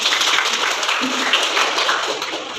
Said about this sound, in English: Like, give a clap.